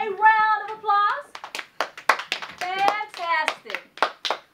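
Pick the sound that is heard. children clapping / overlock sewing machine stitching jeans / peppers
children clapping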